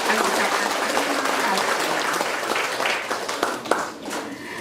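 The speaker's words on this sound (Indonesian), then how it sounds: "mari kita berikan tepuk tangan" Audience applause at a Bupati and deputy Bupati's working visit in Kampung Muandarisi, Kuriwamesa district, a dense steady patter of clapping throughout with voices mixed underneath.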